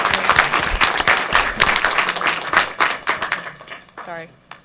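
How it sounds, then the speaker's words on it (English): Brief clapping from attendees at a council meeting, uneven bursts mixed with nearby talking, fading out near the end as a voice resumes. "Okay, so... Applause for that."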